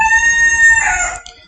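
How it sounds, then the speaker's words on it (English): A rooster crows once nearby, a loud, sustained cock-a-doodle-doo that rises and then breaks off sharply. "stepdad has some chickens as well and a rooster"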